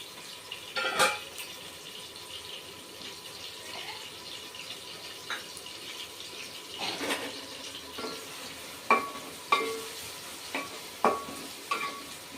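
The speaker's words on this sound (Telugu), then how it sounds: "కొంచెం ఎర్రగా కానిద్దామండి ఉల్లిగడ్డ. మంచిగా వేగినాయి ఉల్లిగడ్డలు." Onions frying in a pan for a prawn and tomato curry, with a soft steady sizzle under repeated sharp scrapes and clinks of a spatula stirring against the pan, close by and with no talk.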